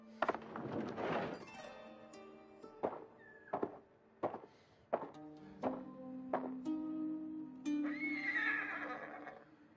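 A horse in the video game Ghost of Tsushima whinnies loudly and close, followed by a series of sharp thunks and short tonal game effects, with another rising whinny-like cry near the end.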